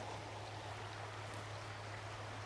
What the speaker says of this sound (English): here's the river this morning.